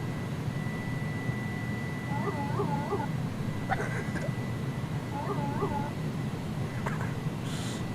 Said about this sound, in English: Dude, the trim wheel sound on this is just outstanding.